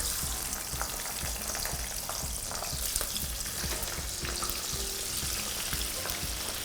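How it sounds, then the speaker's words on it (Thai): Store-bought frozen french fries deep-frying in hot oil, a steady dense sizzle with crackling bubbles throughout, close and continuous with no voices. "เราก็แค่รอให้น้ำมันร้อนนะคะ ใส่ลงไปทอดเลย"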